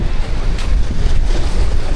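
Strong seaside wind buffets the microphone in a steady low roar on the coast at Kep, Cambodia, with a continuous rush of surf-like noise and no talking.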